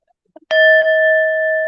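A bell in a committee room rings once, loud and close, then its bright tone sustains and rings on after a couple of faint taps.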